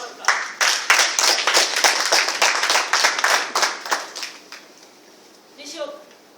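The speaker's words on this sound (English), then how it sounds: "please give a round of applause" A small audience claps in a room, a brisk patter of hands for about five seconds that thins out and fades, followed by a brief voice.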